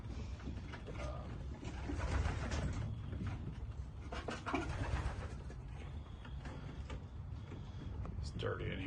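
Racing pigeons coo steadily inside a dirty stock loft holding cockbirds, with low murmuring calls close by, and a person speaks over them.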